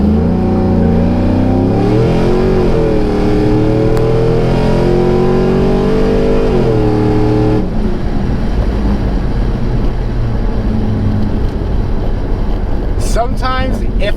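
A 1998–2002 F-body car with a 3600 stall converter launches, its engine revving up in a rising harmonic sweep, dropping back, then giving way to rougher road and engine rumble; loud and close, with people talking over it.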